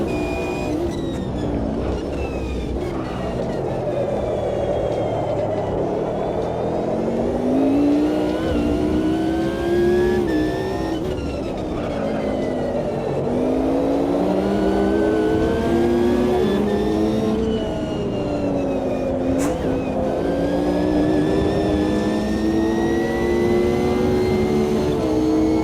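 Race car engines in Assetto Corsa EVO, including a Nismo, rev and shift repeatedly in rising and falling sweeps, loud and close throughout, with gear changes marking a steady lap rhythm.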